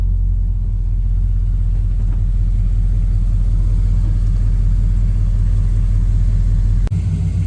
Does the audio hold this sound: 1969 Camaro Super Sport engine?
yes